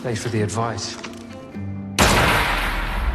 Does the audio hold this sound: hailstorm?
no